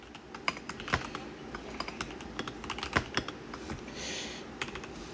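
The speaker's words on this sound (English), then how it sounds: "I'm going to type it into chat." Scattered, irregular computer keyboard clicks, close but fairly soft, with sparse keystrokes and short pauses over a faint background hiss, no voices.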